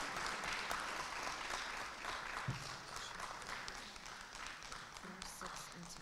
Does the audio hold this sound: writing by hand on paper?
no